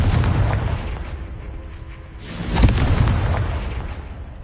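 A Confringo spell explosion from the video game Hogwarts Legacy bursts with a deep boom, set against a rumbling, crackling background that swells to a loud peak and then fades.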